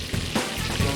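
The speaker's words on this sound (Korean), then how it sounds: "한 번에 80개의 꿀빵을 튀겨내는 작업자" A batch of eighty honey breads frying at once in a large vat of hot oil, a brief burst of steady close sizzling and bubbling with small crackles.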